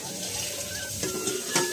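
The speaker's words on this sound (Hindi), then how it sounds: "थोड़ा पानी और लगाऊँ।" Water is poured into egg curry masala as it cooks: a short, quiet splash and bubbling sizzle lasting under two seconds, with a few faint clinks.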